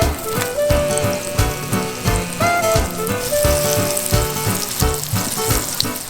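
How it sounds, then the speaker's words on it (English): Zucchini sizzles steadily in a hot pan, close and continuous, while a melody plays in the background. "frying up some of that big zucchini"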